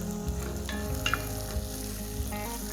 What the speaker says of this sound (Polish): Niech się dusi, niech się smaży.